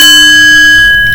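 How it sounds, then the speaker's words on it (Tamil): A struck singing bowl rings out loud and close, one sustained metallic tone with steady shimmering overtones that hold without fading. "இது என்னோட சிங்கிங் பவுல்."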